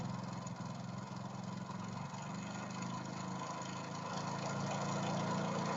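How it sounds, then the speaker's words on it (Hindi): A Hero Splendor motorcycle engine idles steadily up close during a mileage adjustment, a continuous even drone with a slight rise in level toward the end. "अब देखो मैं सर फिर वापस स्टार्ट कर रहा हूँ गाइस, तो जो इसकी रेस है वो कम हो रही है"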